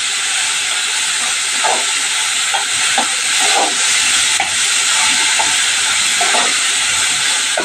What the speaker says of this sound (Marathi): बघा आता चांगली वाफ आलेली आहे